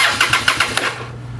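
Honda Shadow motorcycle engine cranking in quick rhythmic pulses for about a second, then catching and settling into a steady low idle, close and loud with no talking.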